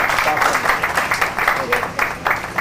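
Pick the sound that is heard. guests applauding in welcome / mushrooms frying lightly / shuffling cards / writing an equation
guests applauding in welcome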